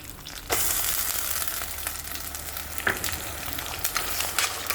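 Onion paste frying in hot oil for a biryani, a dense steady sizzle that bursts in loudly after a brief quieter start, with occasional crackles and stirring clicks throughout.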